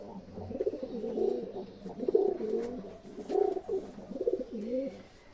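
A pair of Pakistani Rampuri pigeons at a home pigeon house coo close by in repeated rolling, throaty phrases, fairly soft, with no talk over them.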